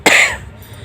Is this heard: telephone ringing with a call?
no